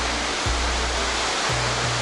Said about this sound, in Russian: Смотри, какие волны здоровые.